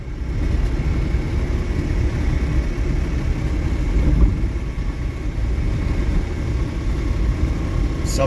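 Electric motor of an EV-converted MG Midget with a fault, a steady low rumbling drone with a rough, rattly edge, continuous and fairly loud throughout while the car coasts without power.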